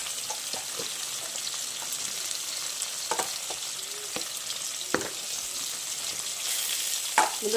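Vegetable bhaji seasoned with turmeric fries in a pan with a soft, steady sizzle. Occasional sharp ticks and scrapes of stirring break through the sizzle.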